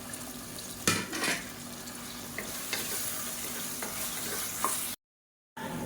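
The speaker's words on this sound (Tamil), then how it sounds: "இப்போ பாருங்கள் தக்காளி வெங்காயம் எல்லாமே நல்லா வதங்கிடுச்சு" Tomato and onion sauté in a pan of oil for a kulambu, a steady close sizzle and crackle with occasional spoon stirs and scrapes against the pan, no talking.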